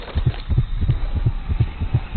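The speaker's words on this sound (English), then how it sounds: "Sound effects in this game, I just love. The beating heart that you get from the outsider." A steady double-thump heartbeat tied to the Outsider in Dishonored, about three beats per second, deep and muffled, repeating evenly and alone with no talk over it.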